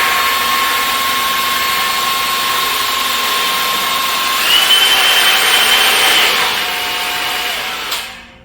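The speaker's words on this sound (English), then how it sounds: "Just a simple drill." A steady high-pitched power drill whine runs for several seconds as it raises a motorcycle lift, rising slightly in pitch partway through before cutting off abruptly at the end.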